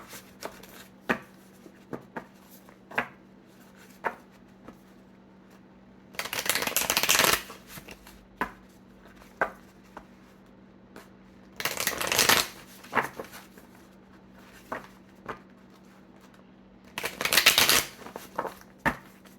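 A Hoodoo Tarot deck is handled in a quiet room with scattered soft card taps, broken by three bursts of riffle shuffling that each last about a second.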